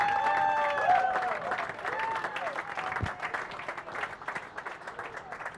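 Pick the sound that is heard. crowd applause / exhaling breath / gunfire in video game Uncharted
crowd applause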